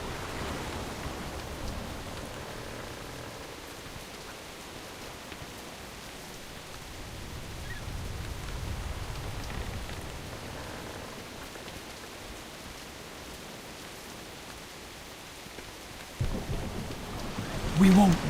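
Steady rain falling in the World of Warcraft video game, a soft continuous hiss with low rumbling swells, ending with a few louder thumps near the close.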